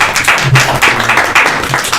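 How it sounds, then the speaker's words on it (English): Loud applause from a conference audience, dense clapping filling the room steadily from start to finish with no voices over it. "Thank you for the applause."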